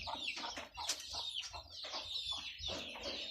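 Several chickens cluck and chatter close by in quick, overlapping bursts, with a soft low rumble underneath.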